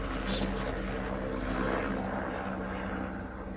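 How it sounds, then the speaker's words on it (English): A propeller airplane drones overhead as a steady, continuous engine rumble, fairly close and loud, holding throughout without clear fading. "the airplane is confirmation, so wait for it to come on"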